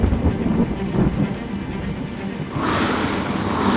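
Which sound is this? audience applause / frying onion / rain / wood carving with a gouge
rain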